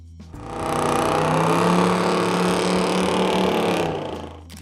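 A 1969 Chevy COPO Camaro muscle car engine revs loud and close, a steady deep roar held for about four seconds before cutting off.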